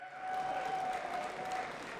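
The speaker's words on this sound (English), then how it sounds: "Don't stop the applauding yet." A crowd at a Dragon Ball FighterZ esports tournament final applauds steadily, a dense wash of clapping that holds at the same level throughout.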